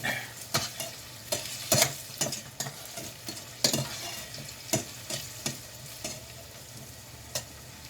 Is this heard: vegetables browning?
yes